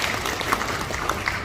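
A symposium audience of about 600 people applauds, a brief, dense burst of steady clapping heard from within the hall.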